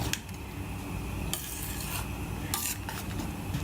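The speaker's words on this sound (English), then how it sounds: "Just give it a good stir." Homemade garam masala of roasted cloves, cinnamon, cardamom, star anise, fennel seeds and pepper being stirred into a rajma curry: a steady close scrape and clatter of a spoon against the pot, with a few sharper metallic knocks and no talking.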